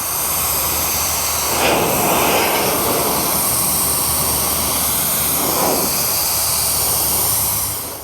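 A battery-powered KiCA Jet Fan 2 blower drying a car runs as a loud, continuous jet-like roar with a high whine, swelling twice as the airflow shifts before it winds down at the end.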